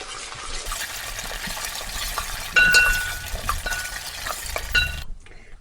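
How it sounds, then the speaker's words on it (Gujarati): Ginger-garlic paste fries in a pan for a spinach and garlic tadka dal. A steady low sizzle runs under repeated stirring scrapes and occasional light metallic clinks of a spoon, ending in near silence. "આદુ લસણની પેસ્ટ આ પેસ્ટને બે થી ત્રણ મિનિટ સુધી આપણે શેકાવા દઈએ"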